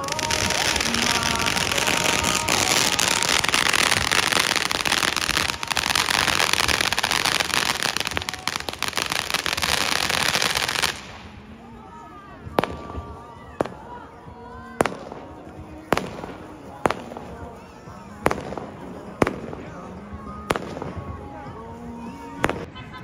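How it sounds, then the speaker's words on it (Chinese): Fireworks and firecrackers on Chinese New Year's Eve in a Chinese street: first a dense, continuous crackling roar of many bursts, then a quieter stretch of separate sharp bangs spaced about a second apart, with people's voices in the background. "然后看了一些烟花"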